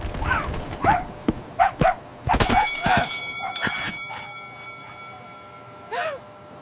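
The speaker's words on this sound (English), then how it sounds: "Look, a dog!" A small dog in a LEGO City setting gives several short yips and barks in quick bursts, with a few sharp mechanical clicks and a final whimpering bark after a pause.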